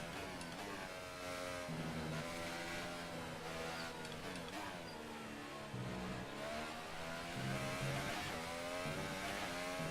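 A Formula 1 car engine in the F1 2018 video game at the Chinese Grand Prix: a loud, continuous high-pitched whine rising and falling with gear changes and throttle, close up, without talk.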